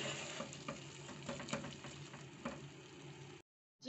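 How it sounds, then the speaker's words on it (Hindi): Goat brain (magaz) frying in a pan, a steady close sizzle with bursts of crackle and stirring scrapes for about three and a half seconds before cutting to silence. "अब हम इसको भूनेंगे।"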